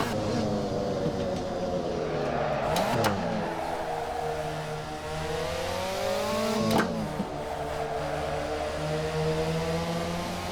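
A race car engine in a racing sim, driven through a Moza HGP shifter, drones steadily and loud. It gives two sharp rev blips with falling pitch as the car downshifts, about four seconds apart. No one speaks.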